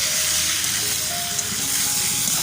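Pre-fried potatoes sizzling in hot oil with salt and turmeric while stirred in a pan, a loud, dense, continuous hiss close up with faint scraping underneath and no talk.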